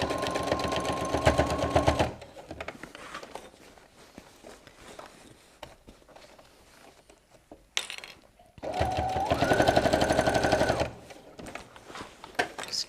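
A sewing machine stitching a tote bag seam at a quarter-inch allowance, two loud bursts of rapid mechanical whirring, one at the start and one later, separated by quieter handling and rustling of fabric.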